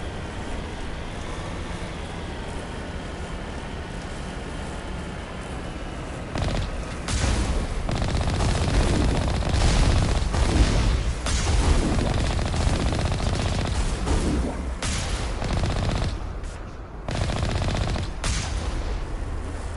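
Gunfire rattles while shooting Geth in Mass Effect Legendary Edition, with dense automatic bursts and heavy booms that stay loud and continuous from start to finish.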